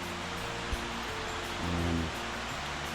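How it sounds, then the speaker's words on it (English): Rain-swollen waterfalls rushing down wooded hillsides into a gorge, a steady broadband roar of falling water heard close and loud, with a brief low thump partway through and no talking. "So we've happened across our first set of waterfalls."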